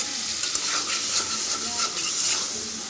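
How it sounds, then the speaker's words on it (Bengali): Potatoes sizzle and fry in a pan for a stingfish curry while being stirred, a continuous bright hiss with soft scraping and crackle throughout, close and alone without talk. "খুব সুন্দর করে নাড়াচাড়া করতে হবে, আর খেয়াল রাখতে হবে নিচে যেন লেগে না যায়।"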